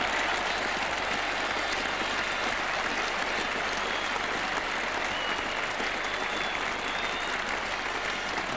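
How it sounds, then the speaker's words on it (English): A cricket crowd at an England versus Australia Test match applauds Peter Willey's fifty, a dense, steady wash of distant clapping that carries on evenly throughout. "And a great round of applause as well for Peter Willey's 50."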